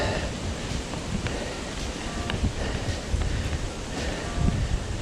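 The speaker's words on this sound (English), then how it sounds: "I'm sure you can hear the sounds of wind." Wind blows across a walking trail in the Uralla Nature Reserve, a steady rough rush of buffeting noise at the microphone with faint rustling, with no other sound present.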